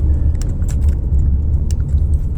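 Loud solar bus passing close on a city street in Pasay, a heavy low engine rumble filling the clip with a few light rattles and clinks on top, steady and near.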